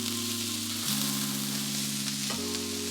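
Sliced onions frying in oil for a restaurant-style Sri Lankan kottu, with a continuous close sizzle under a loud, steady hum that shifts pitch twice, and no voices.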